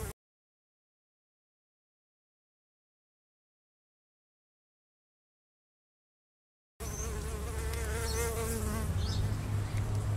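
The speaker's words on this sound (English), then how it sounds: "Just got a little native bee here." An Australian blue-banded bee (Amegilla cingulata), a small native bee, buzzing close by with a steady, faintly wavering drone that starts after a long stretch of silence.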